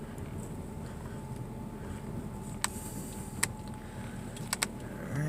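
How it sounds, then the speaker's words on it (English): A Saturn S-series car with faulty brake lines creeps slowly into a garage, its engine a low, steady hum with a few sharp clicks and clunks. "I'm just trying to pull it into the garage here"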